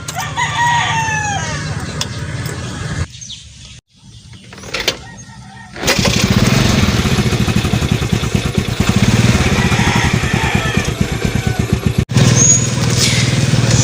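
A motorcycle engine fires up after a few seconds of rough starting noise, then settles into a loud, close, continuous idle with a steady putter that runs through the rest of the stretch, briefly broken once, with roosters crowing nearby.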